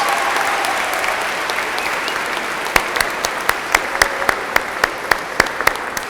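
An audience applauds young women standing before family and friends at a church ceremony, a steady wash of clapping from many hands that grows a little sharper with scattered louder individual claps toward the end.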